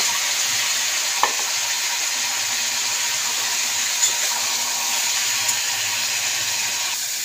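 Brinjals and potatoes frying in oil with black cumin, a steady close sizzle with a few light clinks of a stirring utensil against the pan, no voices.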